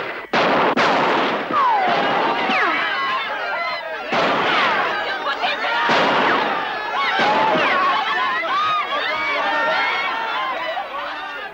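Spanish Civil War battle gunfire crackles in sharp repeated bursts and heavier blasts, with chaotic shouting voices mixed underneath, loud and close.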